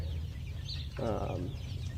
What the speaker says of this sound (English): These are all our pullets in the pole barn.